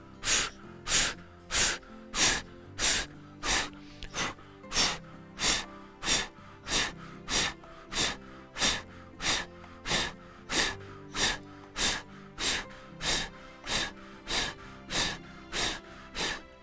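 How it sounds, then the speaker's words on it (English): Rapid rhythmic breath-of-fire yoga breathing, a long run of sharp forceful nasal exhalations pulsing about twice a second, close and alone. "let's do breath of fire"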